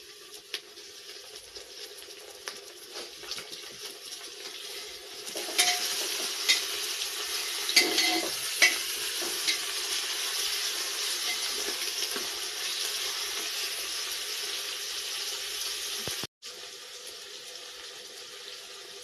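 Onions and tomatoes sautéing in a pan for Maharashtrian masala rice give a steady broadband sizzle that swells after a few seconds, with stirring scrapes and clinks. It stays moderately loud and close, with a brief dropout near the end and no talk.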